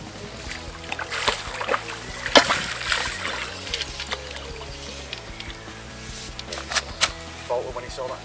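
Mirror carp thrashing and splashing at the water's surface as it is drawn into a landing net, irregular sloshes and slaps of water at moderate distance, with some sharper splashes standing out.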